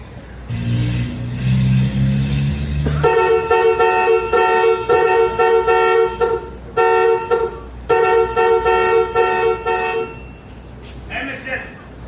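A car horn honks repeatedly in loud, uneven blasts, some long and some short, close by with a voice and engine noise around it, during a live stage play.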